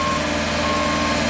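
A Genie lift driving in reverse, a loud, steady tonal reversing beep over a continuous electric motor hum, close by, with no speech.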